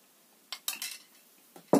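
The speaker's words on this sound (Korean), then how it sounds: "또 저어주세요." Spoon clinks and scrapes against a bowl while stirring a kelp-extract moisture cream, a few separate clinks, fairly close, with no talking.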